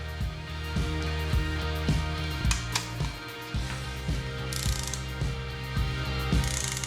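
A ratchet wrench tightens bolts on a forged LSA engine being built for a Chevelle, torqued to 25 foot-pounds. It gives close, steady runs of sharp clicking strokes with brief pauses between pulls, and no one speaks.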